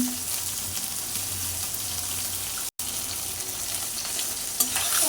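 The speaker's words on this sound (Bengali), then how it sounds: "তো আমি মাছটাকে নিতেছি হালকা একটু ভেজে নিলাম" Fish frying lightly in a pan gives a steady, dense sizzle that runs without a break, with a brief dropout midway and a faint clink near the end. No one speaks.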